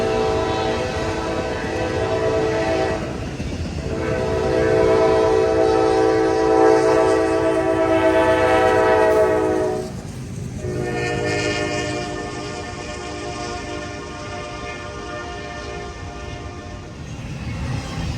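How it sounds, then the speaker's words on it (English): Two heavy mainline freight trains pass each other at Folkston, with loud continuous rumble and wheel roar close by, a long horn blast sounding through much of the passage and steady rolling noise afterward. "Two enormous mainline freights have a monumental encounter."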